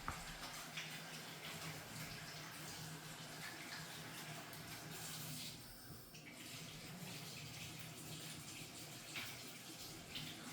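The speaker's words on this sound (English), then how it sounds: "I'm just going to give my hands a little rinse here" Tap water runs steadily while flour-sticky hands are rinsed after kneading naan dough, a faint, continuous broadband splash with a brief change in flow partway through and no talking.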